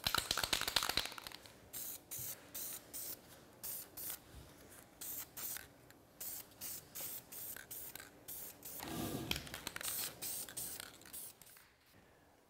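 Shadow Chrome paint is sprayed from an aerosol can onto a car's chrome trim in a second coat, with repeated short hissing bursts separated by brief pauses and a longer spray near the middle, close and fairly quiet.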